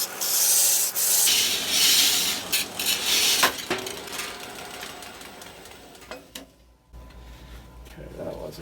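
A Scotch-Brite pad rubbing on a running belt sander gives a loud, steady abrasive hiss with scraping bursts, fading near the end into a lower mechanical hum.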